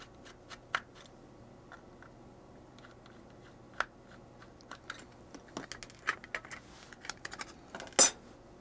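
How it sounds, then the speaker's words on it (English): Two screws removed from the bottom of a Lionel uncoupling track box, scattered small metallic clicks and taps from a screwdriver and screws, faint and close, ending in one sharper clack. "Remove the 2 screws in the bottom of the box."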